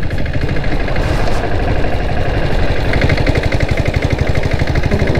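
A diesel Bullet motorcycle with a 7.5 HP turbocharged engine thuds steadily at close range, its rapid, even pulsing holding a constant rhythm with no voices.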